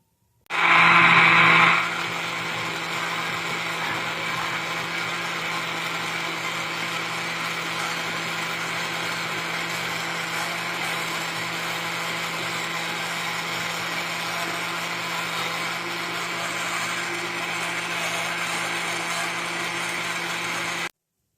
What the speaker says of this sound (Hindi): अब हम इसको अच्छे से कर लेते हैं ब्लेंड।